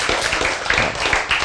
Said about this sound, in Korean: 암 환자가 어디서 이런 박수를 치고 싶습니까, 여러분?